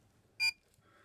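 A digital air-conditioning pressure gauge, used for a nitrogen pressure test on a 2014 Ford Kuga, gives one short, clear electronic beep in an otherwise quiet setting.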